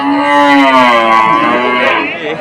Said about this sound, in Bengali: এই নকলা বাইপাস বিশাল গরুর হাট থেকে দেখেন প্রচুর গরু